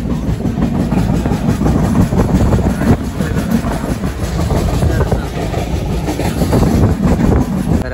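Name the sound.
train running on rails near Zuari bridge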